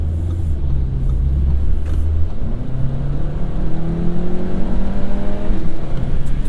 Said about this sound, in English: when you get on it hard, up high in the revs, it really sings out